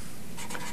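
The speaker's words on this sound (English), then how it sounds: "I'll write these here." Marker or chalk strokes on a classroom board during a logic lecture, a few short squeaky scratches near the end, faint and close, with no talking.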